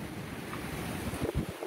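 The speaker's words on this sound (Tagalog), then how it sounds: "Tila nagsayawan ang mga puno sa lakas ng hangin dulot ng bagyong Julian sa Ivana, Batanes kaninang umaga." Strong typhoon winds buffet the microphone and roar through trees in Itbayat-area Batanes, a continuous loud gusting rush with rising and falling surges.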